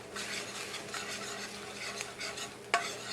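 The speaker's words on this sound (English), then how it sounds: "I'm going to saute this." Kaffir lime leaf sautés in a pan, a faint, close sizzle with soft stirring scrapes and a single sharp clink of a utensil against the pan near the end, no voices.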